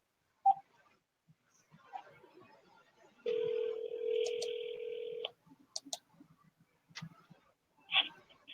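A phone rings with an incoming call: a single clear two-tone electronic ring lasting about two seconds, surrounded by faint clicks and taps in an otherwise quiet room.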